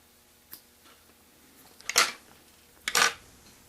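Scissors trim excess fly-tying material while a Clouser Minnow fly is being tied, giving two sharp close snips about a second apart after a faint earlier tick, in a quiet room.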